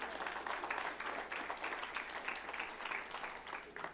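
A church congregation claps for a guest during a sermon, a quiet, distant patter of applause with steady rhythmic clapping throughout.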